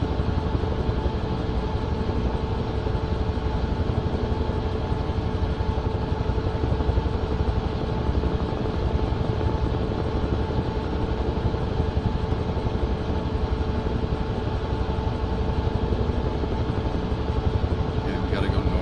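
A Bell UH-1 Huey helicopter flying in Microsoft Flight Simulator 2024: a steady, loud engine and rotor drone, constant and unbroken, with no pauses or talk over it.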